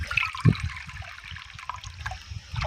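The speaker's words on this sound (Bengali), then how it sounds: "এবার এই বাটি পরিমাপ করে আমি চার বাটি জল দিয়ে দেব" Water pours into a bowl of rice flour mixed with salt, a soft, steady trickle with light splashing and one brief louder splash near the start, close by.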